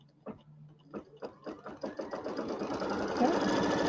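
A quilting machine starts with a few separate stitch thumps, then speeds into a steady rapid whir while sewing the tack-down line on the borders of a bench pillow.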